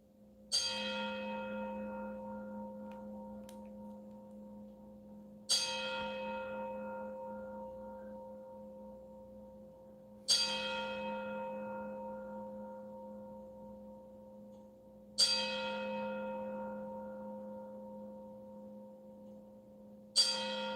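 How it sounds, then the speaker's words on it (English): Boxing ring bell tolls five times at an even pace of about one strike every five seconds for a ten-count salute, each clear metallic ring decaying slowly into quiet. "There's the bell ring, guys."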